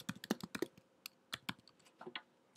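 Quiet computer keyboard typing of a short spreadsheet sheet name, crisp close-up clicks in quick bursts with brief pauses between keystrokes.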